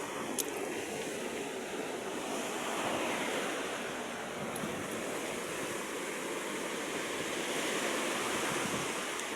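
Sea waves surging against a seawall, a continuous heavy rush of surf with wind buffeting the microphone, steady and loud throughout with no talking.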